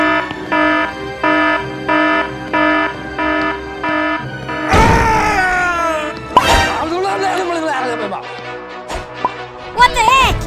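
An office alarm system goes off inside an escape video game, a loud repeating electronic pulsing tone that gives way to wailing, squealing sweeps, with brief crash-like bursts near the end.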